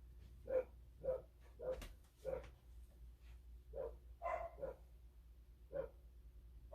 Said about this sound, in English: cue my dogs